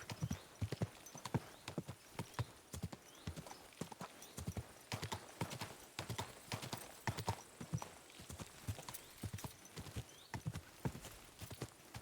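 Horse hooves clip-clop in the video game Kingdom Come: Deliverance II, in a steady, even rhythm, close and distinct, continuing throughout without pause.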